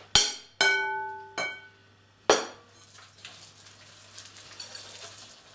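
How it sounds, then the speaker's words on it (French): Oily gluten-free olive cake batter stirred in a bowl, opening with several sharp ringing clanks of utensil on bowl, then softer wet swishing and scraping, close and alone. "Je mélange."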